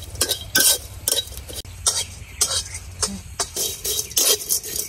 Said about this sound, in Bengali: আমার শুটকি গুলা কিন্তু ভাজা হয়ে গেছে